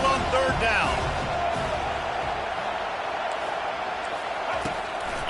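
A home stadium crowd roars and cheers as the defense tries to get off the field on third down in a Miami versus USF college football video game, a loud, continuous wash of noise under play-by-play commentary.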